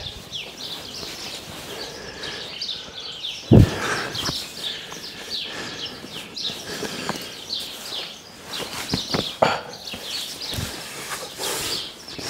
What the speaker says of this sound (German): Hört sich an wie ein Vogelkäfig hier